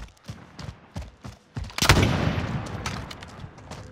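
Sharp gunshots crack in rapid bursts during a Call of Duty Warzone match, several quick separate shots followed by a loud, sustained volley that trails off into rumbling.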